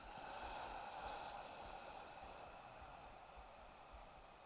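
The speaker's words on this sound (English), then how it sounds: "really notice that whispering sound, that airy brushing sound as you breathe out" Airy whispering exhale through an open mouth during a beginner yoga sun salutation, a steady breathy hiss held for several seconds, close and soft, with no talk.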